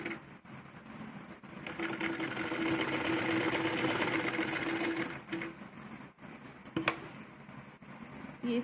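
A sewing machine stitches piping cord onto a jacket, running in a steady rapid whir that swells, pauses briefly, then restarts for short bursts, close and clear with no talk.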